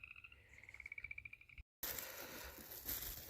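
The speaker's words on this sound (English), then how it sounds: "Happy frogs." Frogs croaking outdoors after heavy rain in Colorado, a rapid pulsing trill of calls repeating near the start, then a brief dropout followed by louder broadband outdoor noise.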